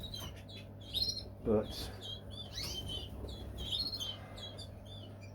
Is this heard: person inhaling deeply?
no